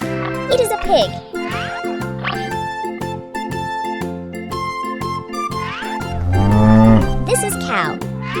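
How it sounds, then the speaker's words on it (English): A cartoon cow gives a low, drawn-out moo near the end, preceded by other squeaky animal calls, all over cheerful children's music. "This is cow."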